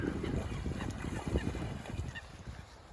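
Geese honking near water in a rural outdoor setting, a broad chorus of many birds calling over steady background noise, with a dog splashing about in the water and mud.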